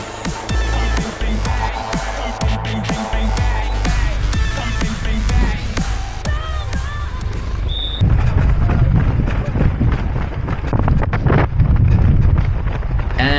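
Strong gusting wind buffets the microphone during an outdoor 10K road race in warm, blustery conditions, a loud rushing roar with irregular thumps and rustles and occasional faint voices underneath.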